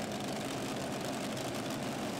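A V8 supercharged pulling tractor at a European tractor pulling championship, its engine giving a loud, steady, dense roar throughout with no voices over it.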